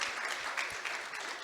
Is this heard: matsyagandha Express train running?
no